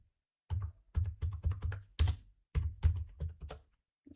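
Computer keyboard typing, about a dozen crisp key clicks arriving in short bursts with brief pauses between them, close and fairly quiet with no talking.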